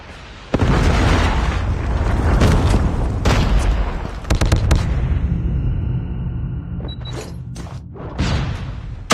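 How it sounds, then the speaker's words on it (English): Predator missile explosion in Call of Duty Mobile during a Hardpoint match: a heavy, loud boom with a long rumbling blast tail, followed by sharper pops and scattered gunfire as the noise fades. "Hostile predator missile."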